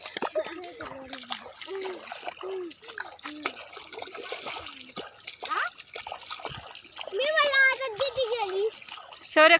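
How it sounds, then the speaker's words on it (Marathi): Water trickles and splashes steadily as it runs into a wheat field, beneath lively chatter, laughter and children's voices outdoors. "ऐश्वर्य पाणी चालू आज पूर्ण किती मजा वाटत"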